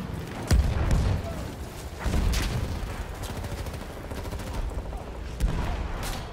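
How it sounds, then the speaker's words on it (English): Gunfire in a multiplayer shooter video game: bursts of shots and booming impacts crackle steadily throughout, with a few louder blasts standing out near the start and end. "Who the fuck is shooting me?"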